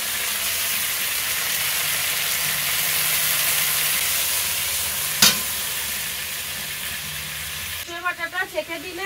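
Ground mustard paste is strained into a hot pan of fried chili tempering and sizzles steadily with a bright, constant hiss. One sharp clink comes in the middle, and stirring scrapes and bubbling sounds follow near the end.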